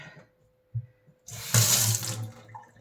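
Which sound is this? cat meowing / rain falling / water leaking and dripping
water leaking and dripping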